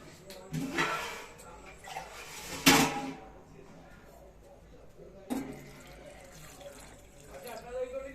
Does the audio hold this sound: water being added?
yes